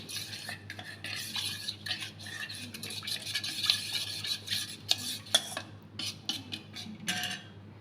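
A spoon stirs and scrapes through ambil batter being mixed by hand in a home kitchen, with irregular clinks and scrapes against the vessel, close and fairly quiet, with no talking.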